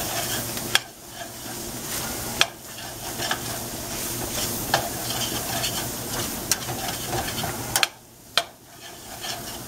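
Flour is stirred into shepherd's pie filling in a hot pan: a soft continuous sizzle with scraping stir strokes and a few sharp spoon taps on the pan, close by, with no talking.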